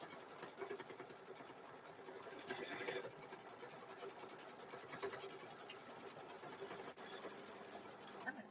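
Sewing machine stitching a cow-pattern quilt, a steady fast mechanical whir and rapid needle chatter running continuously at close range, quiet overall, with light talk mixed in.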